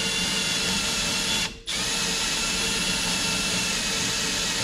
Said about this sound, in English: Letting the drill do the work.